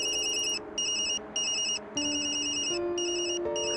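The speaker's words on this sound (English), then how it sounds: "Sorry, Yumi, that's my phone." Phone ringtone in the video game Tokyo Dark: a bright electronic melody repeating in short bursts with brief gaps, loud and close, alone without talk.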